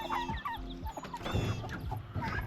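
Chickens clucking and squawking close by while being caught and crated for the butcher, a busy cluster of overlapping calls.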